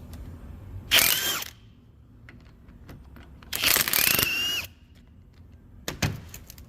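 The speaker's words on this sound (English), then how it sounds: "We're gonna use this impact driver here rated for 1070 foot-pound. Let's do that 10 mil bolt first." An impact driver rated at 1070 foot-pounds hammers a 10 mm bolt through an Olsa Tools swivel socket. A short burst of loud, close rattling whine is followed by a longer burst, then a brief final blip.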